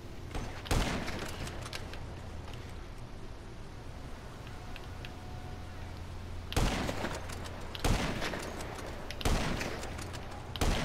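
Sharp bursts of gunfire in Grand Theft Auto V, one isolated shot early, then a tight cluster of three loud reports near the end over a low ambient game backdrop.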